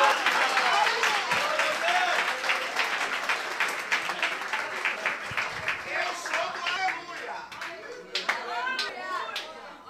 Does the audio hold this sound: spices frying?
no